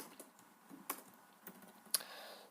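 Sparse computer keyboard typing while writing CSS, a few soft clicks and one sharper keystroke, quiet and close, with no talking.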